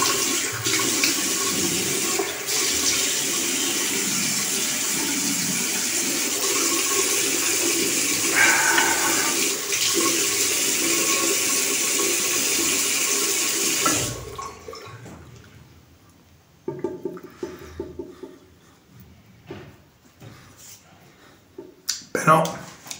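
A tap runs in a steady loud stream while rinsing during a shave with an Omega brush and open comb razor, then stops, leaving scattered splashes, drips and handling sounds.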